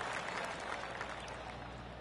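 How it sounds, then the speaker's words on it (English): Polite golf clap applause from a gallery in PGA Tour 25, a soft, steady patter of many hands clapping at a distance, faint and continuous for a couple of seconds. "golf clap"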